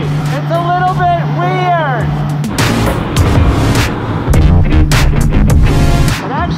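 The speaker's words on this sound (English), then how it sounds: "Driving my race car on the freeway!" A weird 1990s race car cruising on a freeway, loud engine and road roar with shifting tonal whine, while someone talks over it.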